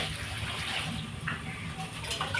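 Water being poured into a cooking pot gives a steady rushing, splashing flow, close and continuous throughout, with faint background noise.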